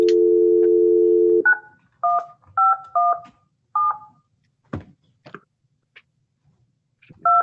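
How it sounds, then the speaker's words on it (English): A telephone number is dialed on a keypad: a steady dial tone cuts off, then a series of short, separated touch-tone beeps follow in an uneven rhythm with faint clicks between them, clear and close with no talking. "I'm going to try to call his phone number."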